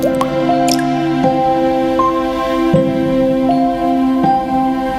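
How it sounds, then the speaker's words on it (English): Water drips into a sink in a quiet room at night, a few distinct drops landing over a steady tonal background. "A drip in the sink."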